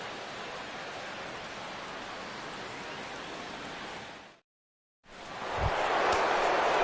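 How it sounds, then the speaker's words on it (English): Rain falling on a baseball stadium during an MLB game, a loud continuous hiss of steady downpour that cuts out briefly, then returns with a couple of low thumps. "Chris Bryant steps in here to lead off the 6th as the rain continues to fall here."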